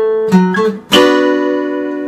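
An acoustic guitar plays a short intro phrase from a song: a few quick plucked notes followed by a strummed chord that rings out and slowly fades, loud and close.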